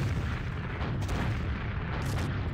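Rocket launcher explosions in Team Fortress 2 form a dense, loud burst of booming blasts in quick succession, lasting the whole short stretch.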